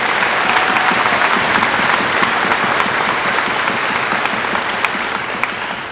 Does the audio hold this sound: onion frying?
no